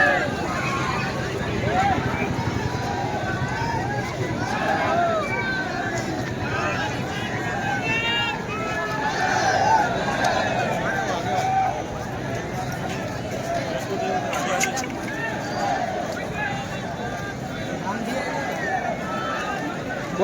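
A large crowd of devotees fills an outdoor Navratri festival site, keeping up a steady, dense babble of many voices and movement with wind noise, while a nearby voice speaks over it throughout.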